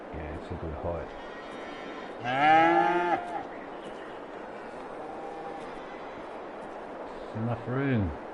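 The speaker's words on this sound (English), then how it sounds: "There's the cows." Cattle lowing in the Farming Simulator game on an off-grid farm: one long drawn-out moo near the start and a shorter one near the end. A steady low game ambience runs underneath, and speech is faint or absent.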